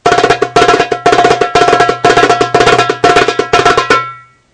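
Darbuka played at full speed in a fast interrupted roll, a rest set inside the roll itself: rapid crisp doumbek strokes in bursts with short gaps, loud and close, alone without talk, ending in a decaying ring.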